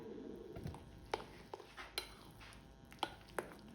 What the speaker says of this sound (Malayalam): പൊടിയും പാലും ഇങ്ങനെ മിക്സ് ചെയ്തുകൊണ്ടിരിക്കുകയാണ്